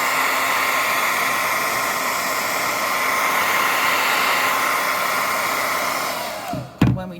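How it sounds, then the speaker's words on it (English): A hair dryer blows with a steady, loud whooshing roar close by, then switches off abruptly near the end with a short thud. "I'm going to just show you with the dryer"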